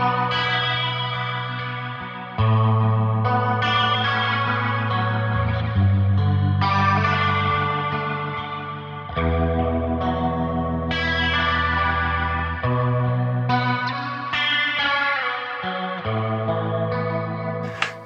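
Electric guitar played through a psychedelic, 70s old-school amp preset on a Tonex modeler, sustained chords and notes drenched in chorus, echo and overdrive, loud and continuous without any talking.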